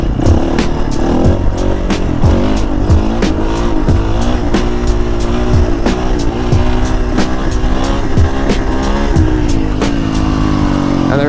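Dirt bike engine during a wheelie attempt, loud and close, revving in repeated rising and falling waves with a buzzy, continuous roar for the whole stretch.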